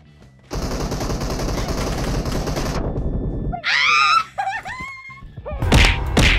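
Automatic gunfire in the PUBG Mobile game: a loud, rapid sustained burst lasting about two seconds, followed by sharp squealing effects and a few more impacts.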